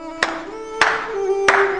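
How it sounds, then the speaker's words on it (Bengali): Three single hand claps spaced evenly about half a second apart, each a sharp close crack over a sustained low tonal hum, with no talking. "আমি হাততালি দিচ্ছি"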